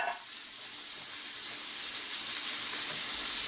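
Pot of bean soup simmering on the stove, a steady broadband bubbling and hiss that holds evenly throughout, close and fairly soft with no talk.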